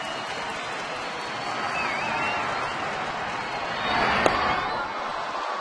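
Stadium crowd at a baseball game, Colorado at Atlanta in a tied ninth inning with two outs, roaring in a steady broad wash that swells briefly toward the end, with faint voices mixed in.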